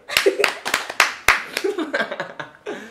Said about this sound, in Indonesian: Tolong Mas ya tepuk tangan di situ juga.